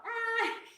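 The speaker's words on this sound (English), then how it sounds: "oh, that's my dog." A dog lets out one short, high whimper indoors. It is a single close, clear whine that rises slightly and then fades away.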